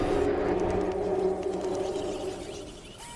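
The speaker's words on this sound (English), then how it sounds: "That's the sound of the mighty T-Rex." A T-Rex in the PUBG Mobile video game gives a long, loud, low rumbling roar that swells at once and slowly fades over about three seconds.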